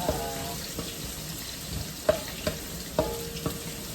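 Potatoes fry in a pan for chicken adobo with a steady loud sizzle, and scattered clinks and scrapes of stirring sound over it.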